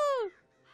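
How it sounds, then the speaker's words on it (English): A crow in the video game Child of Light gives one short, harsh descending caw that fades quickly into quiet. "This crow is drunk!"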